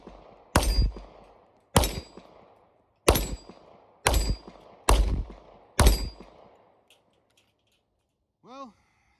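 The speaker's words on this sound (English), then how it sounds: "we're doing the final to definitely put me over 500 rounds of 40 Smith & Wesson" Six sharp, loud pistol shots firing .40 Smith & Wesson rounds, spaced about a second apart, each with a brief ringing tail, followed by a short faint electronic beep.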